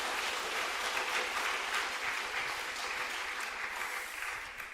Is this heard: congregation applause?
yes